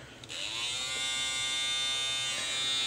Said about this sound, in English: I do have a Gamma Boosted Shaver right here.